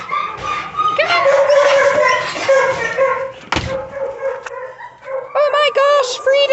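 Excited puppies yip and whimper in short bursts close by, with a thud partway through and a person talking over them.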